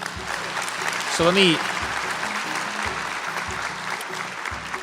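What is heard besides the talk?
studio audience cheering and applauding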